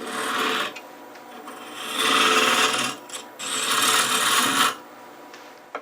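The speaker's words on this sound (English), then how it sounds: "So I'm going to use negative rake scraper and just smooth it out just a little bit." A negative rake scraper smooths spinning Palo Santo wood on a lathe, giving bursts of loud raspy scraping that start and stop in a few passes, with quieter whirring between.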